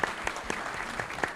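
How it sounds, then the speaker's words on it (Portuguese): Applause for an event team at a panel on horse racing, greyhound racing and Counter-Strike betting, with a steady crowd clatter and a few sharper claps standing out, moderately distant in a hall. "uma salva de palmas ao Jota, ao Ian, nossa equipe, por favor."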